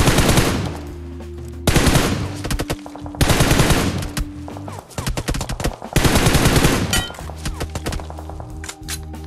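Loud, sustained bursts of automatic gunfire from a shooting video game come in several long volleys separated by brief pauses, with rapid repeated shots filling the mix.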